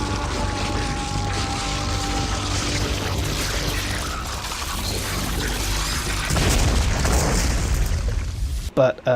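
A grenade bursts in Diablo 3 amid a dense, loud wash of game effects, with heavier booming impacts near the end of the stretch.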